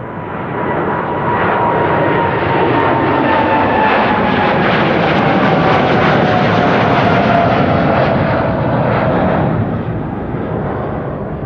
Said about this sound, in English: this is KLM flight 603 to LAX, another Dreamliner